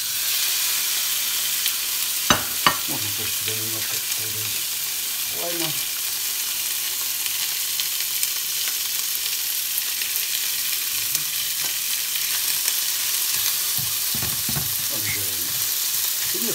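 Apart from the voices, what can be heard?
tuna strips frying in a pan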